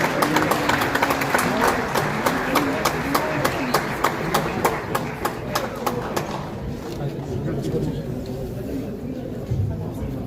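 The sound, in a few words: audience applause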